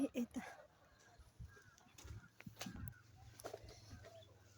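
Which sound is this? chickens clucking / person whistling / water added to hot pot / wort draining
chickens clucking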